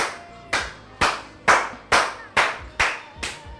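A church congregation claps in slow, steady unison, seven loud, evenly spaced claps roughly half a second apart, with no talking.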